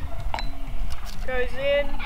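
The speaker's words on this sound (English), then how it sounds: "We have kookaburras, we have cockatoos." Kookaburras and cockatoos calling in a park, bright tonal squawks and whistled calls rising over a low background, with a person talking nearby.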